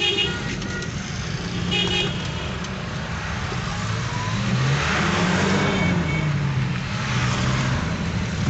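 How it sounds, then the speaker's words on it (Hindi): Road traffic crowds Peshawar's Industrial Estate Road during a blockade, a continuous roar of engines with several short car horn toots early on and a rising engine swell later, busy and close. "ये पेशावर इंडस्ट्रियल स्टेट रोड की सूरत हाल है आज की, और ये आप ये रश देख सकते हैं गाड़ियों का"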